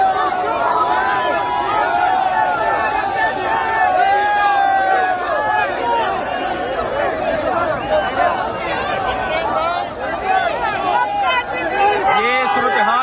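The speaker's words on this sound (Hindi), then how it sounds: "आप देख सकते हैं, हजारों का मजमा है" Thousands of people crowd around the Chief Minister's convoy at D Chowk, a dense, continuous roar of overlapping voices and chatter that stays loud and close for the whole stretch.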